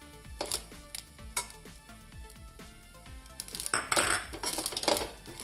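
A spoon clinks and scrapes against a pan while coconut and spices with coriander, chili and turmeric powder are stirred over a low flame, giving irregular close metallic taps that grow busier toward the end.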